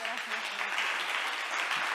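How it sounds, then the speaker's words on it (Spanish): Loud, steady applause from an audience at a session on environmental policy co-production, an unbroken wash of clapping across the whole moment. "Eskerrik asko, un fuerte aplauso."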